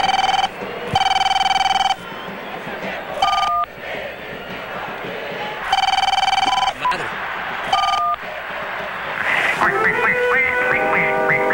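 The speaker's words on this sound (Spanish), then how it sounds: "el celular siempre suena en el instante menos oportuno." A mobile phone rings in bursts of bright repeated electronic tones, several rings separated by short pauses and followed by a warbling chirp, heard over background murmur and talk.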